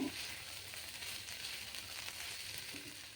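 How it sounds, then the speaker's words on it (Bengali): Chutney mixture frying in a pan after salt is added, a soft continuous sizzle with faint stirring, quiet and steady throughout without talk. "লবণটা দিয়ে মিশিয়ে আবারও একটু নেড়ে চেড়ে নিতে হবে"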